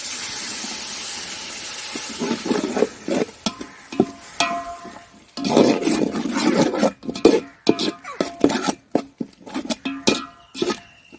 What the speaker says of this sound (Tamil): நல்லா கொதிச்சு வருது பாருங்க, நல்லா சுண்டி வருங்க.